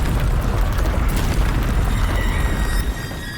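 Booming spell blast of Bombarda in the video game Hogwarts Legacy, a loud dense rumbling explosion that fills most of the clip before tapering slightly near the end, with no talk.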